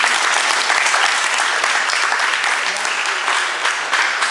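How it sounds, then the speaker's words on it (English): A crowd at a Goodwill gathering claps loudly and continuously, a dense, even wash of applause filling the whole stretch. "yeah, give them a round of applause."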